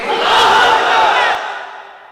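A large crowd of married men at an Islamic sermon gathering shouts a loud, massed takbir response in unison, one sustained roar that swells, holds, then fades away.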